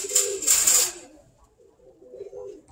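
A pigeon gives a soft, low coo near the microphone, and a brief rustle at the start fades into quiet.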